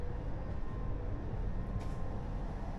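Steady, low rumble inside a five-car Dutch intercity train running at speed on a high-speed line, an even, continuous drone with no voices.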